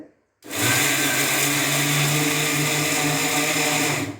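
An electric mixer grinder starts abruptly and runs loud and steady, grinding gond, dry herbs, pepper and dry fruits with a dense whirring roar and no talk.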